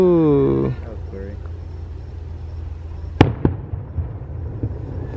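Fireworks being test-fired at Disney's Magic Kingdom, heard from the Polynesian Resort, come as a loud distant boom followed by several sharp pops and crackles, after a sustained tonal sound at the start.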